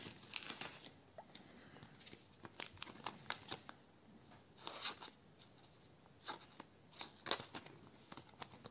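A Dinosaur King trading card slides out of a booster pack with a string of close, quiet papery rustles and crinkles in short bursts, no voices.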